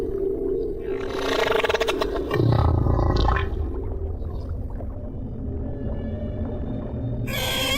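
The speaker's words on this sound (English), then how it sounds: "humpbacks have been singing their extraordinary, complex songs for millions of years" Humpback whale song from older, larger males in the deep ocean: long, loud moaning and rising groans with buzzy, pulsing tones and scraping cries, one sustained phrase flowing into the next, heard alone.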